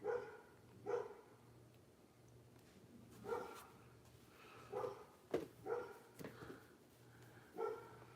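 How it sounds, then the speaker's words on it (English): Several dogs barking outdoors in scattered bursts, some sharp single barks and short clusters, moderately distant over a quiet background. "I think they just run outside and just bark just to hear themselves bark."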